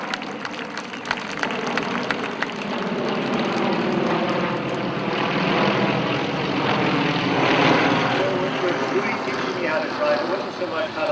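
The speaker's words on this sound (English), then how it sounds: "I'm going to let these planes fly over here" Propeller airplanes fly low overhead, a loud droning engine roar that swells toward a peak and stays strong, while a person talks underneath.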